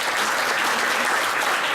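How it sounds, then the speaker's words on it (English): An audience applauds at a celebratory speech, a steady, dense wash of clapping from many hands that holds evenly for the whole stretch without pause. "Let's round of applause"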